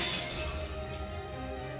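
Caliburn, a golden sword, shatters in a visual novel sound effect: one sharp crash at the start that trails into a ringing, tonal decay.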